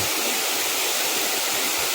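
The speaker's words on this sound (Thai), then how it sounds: "ถึงนะครับ น้ำตกแม่ปาน" Mae Pan waterfall on Doi Suthep, tall and running with lots of water, gives a loud, unbroken rushing roar that stays constant from start to finish.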